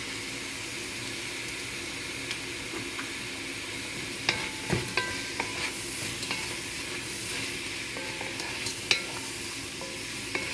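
Soy sauce and shrimp fried noodles stirring in a pot with sesame oil and Maggi seasoning: a steady soft sizzle with scattered scrapes and clinks of a utensil, the loudest knocks coming in the second half.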